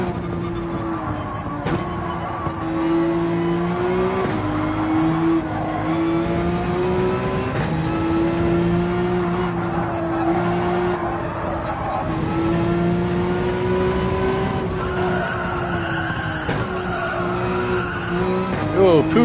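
Gran Turismo 7 race car under hard braking in an online daily race, engine note dropping and tires squealing and skidding into a corner, loud and continuous, with a voice talking over it.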